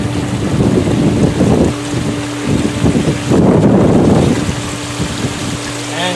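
Water gushes and floods out of an opened D.E. swimming pool filter, a loud rushing, splashing wash with surging bursts throughout, no voices present.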